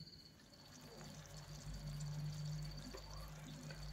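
Boiled and cooled water is poured into a taro stem pickle, a soft continuous liquid trickle lasting several seconds, close and fairly quiet with no talking.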